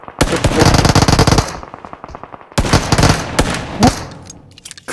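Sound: pistol gunfire in a video game

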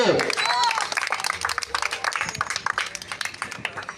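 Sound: applause at temple auction

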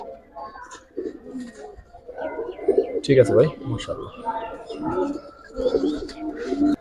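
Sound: pigeons cooing

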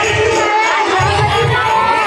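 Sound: dense crowd at food zone of festival

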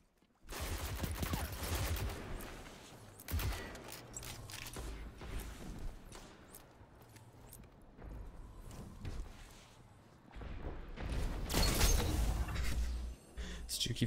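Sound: gunfire from Destiny 2 video game

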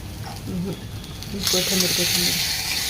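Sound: tadka tempering sizzling for dal khichdi

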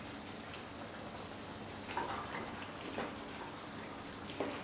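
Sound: beef bunny chow curry cooking in a pot

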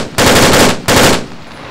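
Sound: machine gun firing in video game Arma 3

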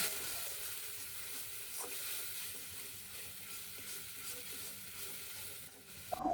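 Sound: spice paste frying in pan

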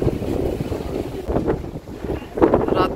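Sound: wind blowing outdoors

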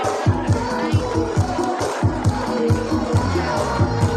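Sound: supporters cheering at a Lamphun larb cooking contest

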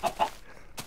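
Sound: chickens clucking in the video game Minecraft

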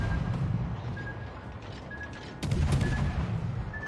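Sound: Skåne warship guns firing in the video game World of Warships

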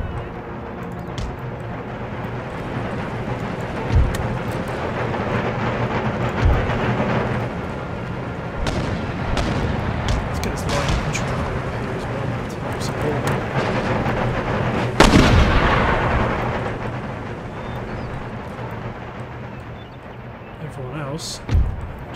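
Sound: artillery howitzers firing in Empire Total War video game

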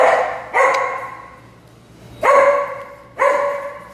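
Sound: dog at a dog cafe

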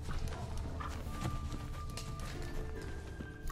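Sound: horse walking, from a video game

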